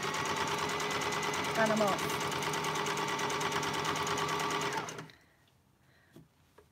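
A sewing machine runs fast and close while sewing a garment mock-up, stitching steadily with a brief change for a back stitch before stopping abruptly near the end, followed by faint handling noises.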